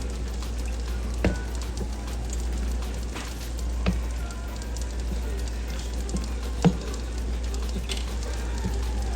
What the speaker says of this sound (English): Okay, so now it's come to a boil.